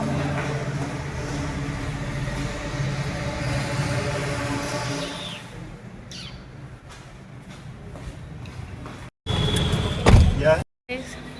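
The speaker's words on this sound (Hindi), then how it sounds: "And finally, the train arrived." A train pulls into a station with a low rumbling roll that thins out midway, followed by clanks and knocks near the end, while people talk over it.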